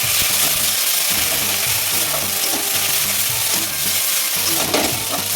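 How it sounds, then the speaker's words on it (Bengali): Onion frying with ginger, garlic, cumin and whole spices in a pan, a dense, steady sizzle close by, with occasional stirring scrapes and no voices. "ততক্ষণ আমি পেঁয়াজটা ভাজবো"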